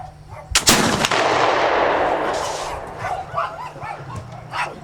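A single loud smoothbore gun shot fired outdoors at a target, a sharp close blast followed by a long rolling echo, with a dog barking faintly afterward.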